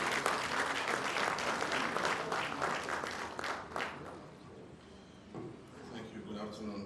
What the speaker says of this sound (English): Shall we please, with a round of applause,